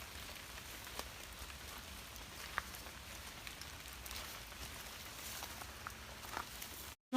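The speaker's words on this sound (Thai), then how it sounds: "ฝนตกหนักแน่ครับผม" Heavy rain falls steadily on a surface such as leaves or a raincoat outdoors, a dense continuous patter with a few louder drops, no talking, ending in a sudden cut.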